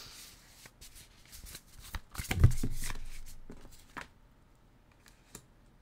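A deck of tarot cards is shuffled by hand close up, giving quick riffling flutters that swell into one louder burst in the middle, then fade to a few soft taps.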